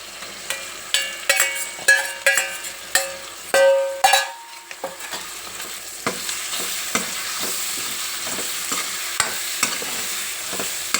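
Prawns stirred and fried in a pan while cooking prawn masala: a spoon scrapes and clinks against the pan in quick irregular strokes, over a steady soft sizzle that carries on after the stirring eases, with no talk.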